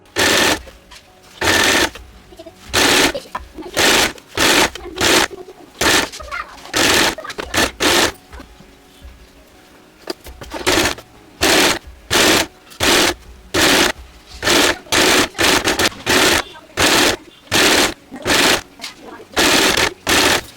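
A sewing machine stitches folded fabric pieces for a hair bow in many loud close bursts of rapid clatter with brief stops, including a longer quieter gap midway.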